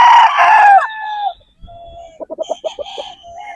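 A broodstag rooster, a sweater and Boston cross, gives a loud close crow, followed after a pause by a quick run of soft clucks.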